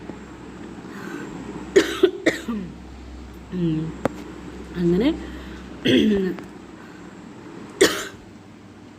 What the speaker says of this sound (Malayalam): ചുമയൊക്കെ ഉണ്ട് ഗൈസ്.